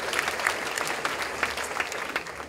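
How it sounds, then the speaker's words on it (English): A crowd claps together at an annual meeting, a steady round of applause for a District 3 member from the Lake Conroe area, dense overlapping claps at moderate distance with no talk over them. "Let's give Jack a round of applause."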